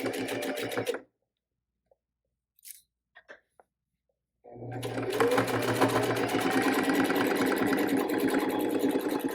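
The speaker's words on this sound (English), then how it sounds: "this is just going to be a basting stitch to hold everybody in place" A domestic sewing machine runs a narrow basting stitch along the seam of a drawstring bag, humming steadily and close. A short run is followed by a pause with faint handling clicks, then a longer continuous stretch of stitching.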